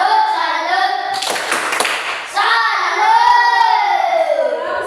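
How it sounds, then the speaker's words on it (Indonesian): A classroom of pupils performs the tepuk salut chant-and-clap: a short burst of quick, loud group claps in the middle, with children's sung voices before and after. "Sekarang kita tepuk salut untuk mereka dulu."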